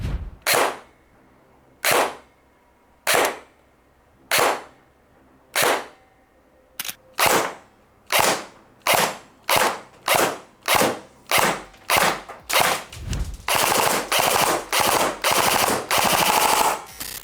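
An Arcturus M4 AR15 AT-AR01-CB FE airsoft assault rifle fires single shots spaced about a second apart, then speeds up into rapid bursts and near-continuous automatic fire, close and sharp.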